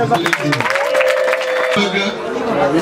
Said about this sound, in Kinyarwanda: mwongere mumuhe amashyi n'impundu